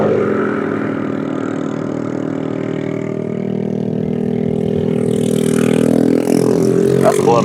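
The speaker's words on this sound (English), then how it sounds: "That's loud. He's got a bad exhaust gasket." Scooter engine droning loudly with a leaking exhaust gasket, a steady, close, buzzing exhaust note that climbs slightly in pitch toward the end, with no talking.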